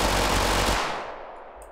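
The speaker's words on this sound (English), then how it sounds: "you know what the fast gun is that I like using? The Glock 18." Rapid automatic fire from a Glock 18 in Totally Accurate Battlegrounds, a dense continuous burst of loud close shots that stops abruptly and trails off into a fading echo.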